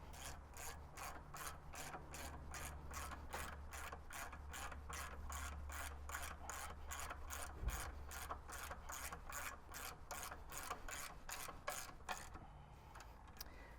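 Rapid, steady ratchet clicking as caliper bolts on the rear brakes of an 80 Series are snugged up, a dense run of regular clicks lasting over ten seconds, close and clear, ending in a short quieter pause.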